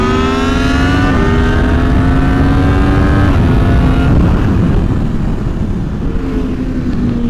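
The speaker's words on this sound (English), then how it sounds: "Pull up alongside me in second here, Johnny." Motorcycles accelerating side by side in second gear on a road ride, loud and close, engine tones climbing in several rising pulls with brief shift dips, under heavy wind rush.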